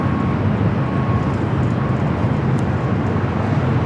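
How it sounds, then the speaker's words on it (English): A British Airways airliner at Los Angeles International Airport passes with a steady, loud broadband jet roar that holds evenly throughout, with no talking over it. "Oh, there goes British Airways."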